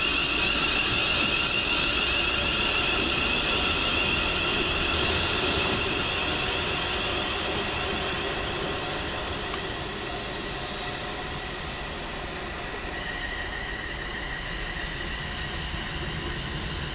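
A West Midlands Railway Class 350 electric multiple unit pulls into Lea Hall station, a steady broadband rumble and hiss that swells near at first, then eases slightly as it slows, alone with no talk.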